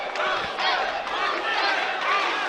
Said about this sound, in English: We hear that chant for the hometown fighter.